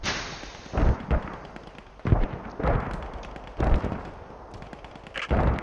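Repeated heavy booms of artillery fire in a WWII video game match, four or five loud thudding blasts spaced about a second or more apart, each with a rumbling tail.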